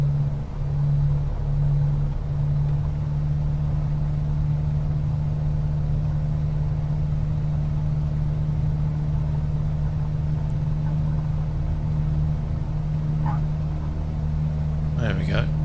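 An Edgley Optica aircraft engine in Microsoft Flight Simulator drones steadily through a takeoff run, a continuous loud low hum with a voice speaking over it.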